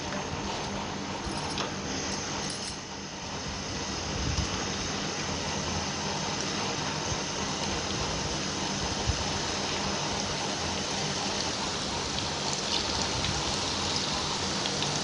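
Bottle gourd pakoras fry in hot oil in a pan, a dense continuous crackling sizzle that stays steady and close throughout with no voices.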